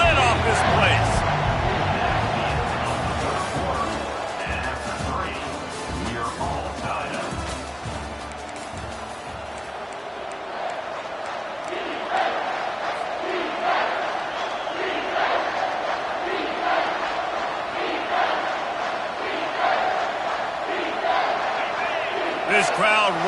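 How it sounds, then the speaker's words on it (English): Loud stadium crowd roaring continuously at an American football game on a third-down play, a dense swelling wall of cheering with a commentator talking over it throughout. "this crowd is tearing the lid off this place"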